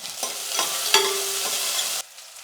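Handful of onions with curry leaves frying in hot oil after mustard seeds have popped, a close sizzle broken by several spatula scrapes and stirs, cutting off abruptly near the end.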